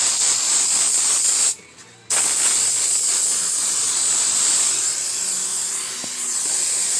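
Silicone spray hisses steadily from an aerosol can onto a nitro RC car, a close continuous jet broken by a single short pause before resuming for several seconds.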